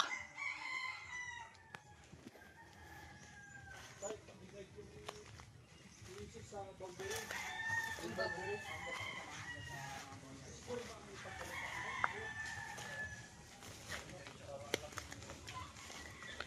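Roosters crow and chickens cluck around a farmyard at a moderate distance, while a person talks nearby over the birds.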